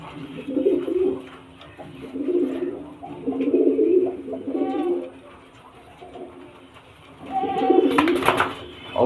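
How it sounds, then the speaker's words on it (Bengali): Andhra pigeons cooing close by in repeated soft, rolling bursts with short pauses between them, loud and clear, with no talking over them. "দেখুন খুব সুন্দর পায়রা"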